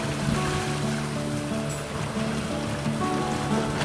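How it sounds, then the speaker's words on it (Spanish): Ocean surf rolls and breaks on the shore during a May sea-fishing outing, a steady broadband wash of water that swells and recedes, close and fairly loud, with no voices. "Es una bonita ola."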